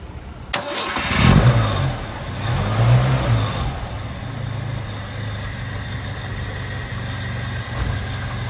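A Ford Maverick's engine cranks after a click, fires with a couple of rising revs, then settles into a smooth, steady, moderately loud idle heard up close.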